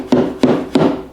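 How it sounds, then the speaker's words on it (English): Three firm, evenly spaced taps of a dead blow hammer on wood, close and solid, each a dull thud with a short decay. "I'm going to take a dead blow hammer. I'm just going to give it a couple taps"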